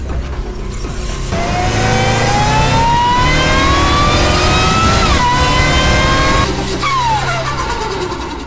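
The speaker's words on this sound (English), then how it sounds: "That is the 2022 Dodge Charger Jailbreak." A 2022 Dodge Charger Hellcat Jailbreak engine revs up loudly and climbs steadily in pitch, drops briefly, then roars again before winding down, close by with no talking.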